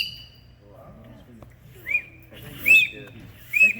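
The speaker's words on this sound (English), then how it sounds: "One more eagle whistle." An eagle whistle played near Native American flutes gives three short, shrill, bird-like chirps, each louder than the last, over low background murmur and talk.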